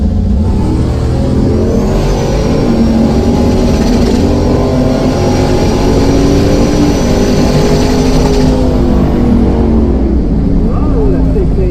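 Studebaker gasser drag car at an Indiana dragstrip, loud sustained engine roar building as it launches off the trans brake, with crowd noise and voices mixed in throughout.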